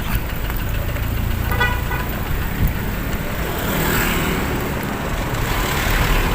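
Cars pass at a street crossing in a town in Bay, Laguna: steady loud traffic noise with engines rumbling and a brief horn toot amid the flow.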